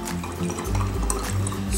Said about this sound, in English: just pour your baby oil all the way to the top